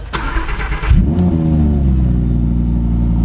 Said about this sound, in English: So shall we start it, because the startup of this car is very special.